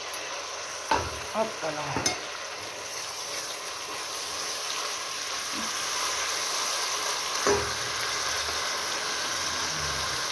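Onions fry in butter in a pan with a steady sizzle. A few sharp stirring clacks land early and another comes near the end, and a voice briefly exclaims once.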